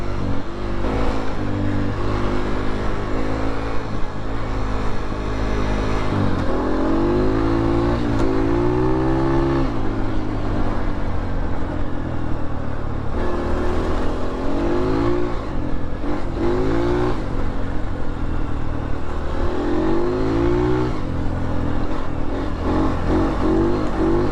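A dirt bike engine runs close by during a ride on a rutted trail, droning steadily and rising and falling repeatedly as the rider revs through the throttle.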